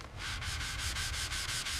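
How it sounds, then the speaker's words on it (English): Steady, continuous sanding of body filler on a Ferrari F40's bodywork, a close, even rasp with regular back-and-forth strokes pulsing about every quarter second, heard alone. "fillers in. Now, sanding."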